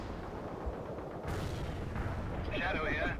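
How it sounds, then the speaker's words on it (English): A fuel-air bomb strikes in the World in Conflict: Soviet Assault video game. A sudden, heavy blast breaks over a low battlefield rumble and lingers as a broad roar, and warbling tones rise near the end. "we just got hit with a, probably fuel air bomb"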